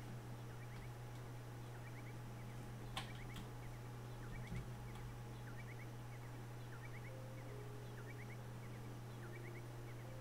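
A faint, repeated turkey-like gobbling call sounds in short bursts across a steady hum of game ambience, with small clicks scattered through it.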